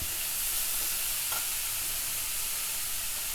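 Carrots frying in a pan give off a constant, even hiss of sizzling oil with faint stirring underneath, heard close and alone.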